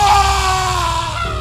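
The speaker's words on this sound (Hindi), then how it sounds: "और फिर एक चीख आई।" A scream used as a sound effect in a Hindi horror story, heard as a loud, sustained, high tonal cry lasting well over a second, gradually falling at the end with no talking over it.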